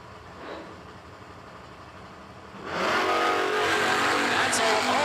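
Drag racing cars launch down the strip at a bracket race, engines droning before a sudden loud surge of roaring, revving power that holds strong to the end.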